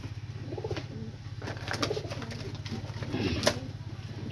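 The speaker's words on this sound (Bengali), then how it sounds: "এই যে একটা কবুতর, এই কবুতরটা ছাড়ছিলাম" Pigeons coo nearby in a low, steady, pulsing rumble that runs the whole time, with a few faint chirps and rustles above it and no talking.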